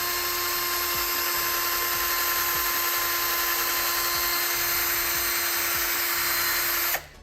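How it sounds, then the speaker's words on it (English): A power drill spins a polishing pad across raw carbon fiber, working in polishing product under light pressure, giving a steady, loud whirring drone with a constant high tone that runs unbroken for about seven seconds before cutting off. "I'm just letting the pad and the drill do what it does, and it's just working in the product."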